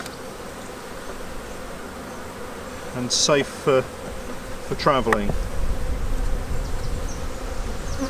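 Bees swarm and buzz steadily around nucleus hives being closed up with tops, a constant close drone while a person speaks briefly partway through.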